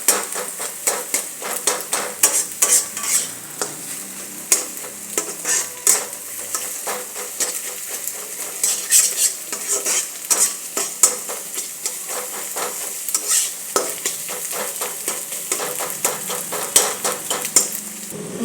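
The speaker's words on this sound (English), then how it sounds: "Now I'll fry the egg nicely with the carrot." Egg frying with carrot in a pan for egg chowmein: continuous close sizzling under rapid, irregular scraping and clattering of a spatula against the pan, loud and busy throughout.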